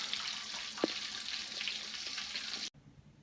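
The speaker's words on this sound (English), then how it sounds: "we're going to finish frying this stuff up" Food frying in a pan for chicken fried steak, a steady broadband sizzle with a few small pops and spatters, close and continuous before cutting off abruptly near the end.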